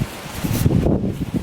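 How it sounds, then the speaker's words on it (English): Gusty wind buffets a microphone out on a porch in a home garden, a loud steady rumble and rustle running throughout with no voice. "Sorry if it's kind of windy."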